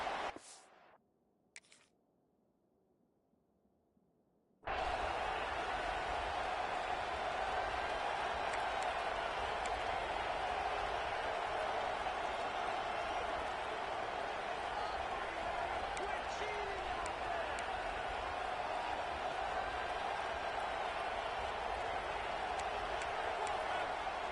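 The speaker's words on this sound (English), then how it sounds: "Decibels rising as the crowd gets behind this defense on third down." After a few seconds of near silence, an Auburn vs Alabama football stadium crowd on third down suddenly rises into a loud, sustained roar that holds steady to the end, with a commentator over it.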